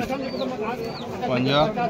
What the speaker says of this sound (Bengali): দেখতে পাচ্ছেন কত সুন্দর আইস কোয়ালিটি পায়রা